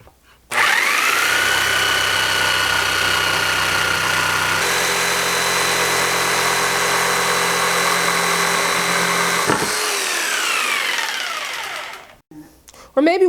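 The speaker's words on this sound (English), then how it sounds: "I'll take my jigsaw and I'll be able to make a cut because it's elevated" A jigsaw runs loud and close for about eleven seconds, cutting a wooden board clamped on an elevated track table with a steady buzzing whine, then spins down and stops.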